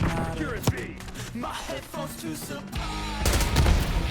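Gunfire in Call of Duty Black Ops 6: bursts of shots over game noise, with a louder, denser volley near the end and voices talking over it.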